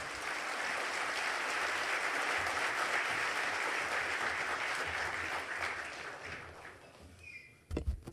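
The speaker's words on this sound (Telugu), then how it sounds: "చప్పట్లు నడుస్తూనే ఉన్నాయి జరిగినంతసేపు" An audience applauds at the end of a minister's speech at Davos: dense, steady clapping from many hands that holds for several seconds, then thins out and fades, ending with a few scattered louder sounds.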